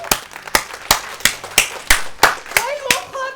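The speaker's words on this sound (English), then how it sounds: "Why are you all clapping for him?" A steady rhythm of about nine sharp, loud claps, roughly evenly spaced, with a voice briefly starting near the end.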